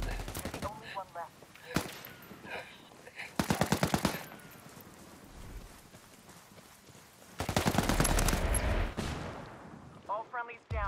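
Gunfire rattles through a Tom Clancy's Ghost firefight: scattered single shots, then rapid machine-gun bursts, a long heavy volley later on, with shouted voices breaking in between.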